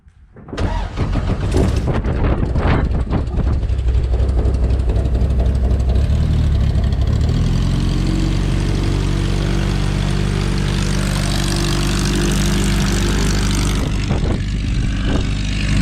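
A Sonex light aircraft's propeller engine cranks, catches and settles into a loud, close, steady running drone with a throbbing low hum, continuing without interruption for the rest of the clip with no voices.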